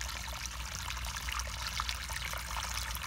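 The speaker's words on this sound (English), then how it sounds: "here comes the toilet again. I can hear it." Toilet water flushes into a septic tank in a continuous rushing, trickling flow, close by and steady throughout.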